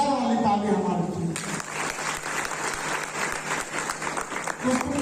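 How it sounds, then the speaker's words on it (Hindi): Seminar audience breaks into loud, sustained applause that swells in after a spoken line and carries steadily to the end, many hands clapping together in a dense wash with a voice briefly returning near the close. "एक जोरदार वाली ताली हमारी टीम"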